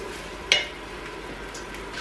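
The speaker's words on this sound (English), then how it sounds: "so just keep letting that saute up" Peppers sautéing in a pan for pasta sauce give a steady, moderate hiss of frying, broken once by a single sharp utensil clink against the pan, with no voices.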